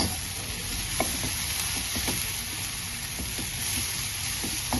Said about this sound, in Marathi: हा बारीक गॅसवरती मी आता तो मिक्स करून घेतोय।